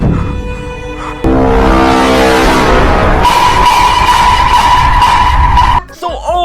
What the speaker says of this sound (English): We're then gonna grab a mixer and mix it for about 2 minutes, or until Athena tries some.